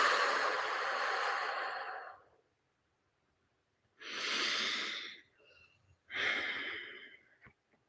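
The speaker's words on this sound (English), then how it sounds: "just do a big out breath and let out all your air." A long, deep out-breath during a guided meditation, close and breathy, followed after a pause by two more audible exhalations with faint soft sounds between them.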